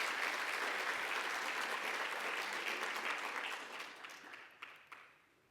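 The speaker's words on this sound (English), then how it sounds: "let's please give them an amazing round of applause" A conference audience gives a sustained round of applause, dense and steady clapping that tapers off into a few scattered claps at the end.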